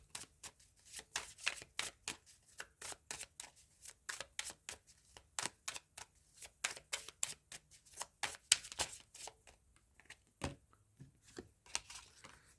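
A deck of journey cards is shuffled by hand in a quiet room, with many quick, close riffling bursts repeating in an irregular rhythm and no one talking.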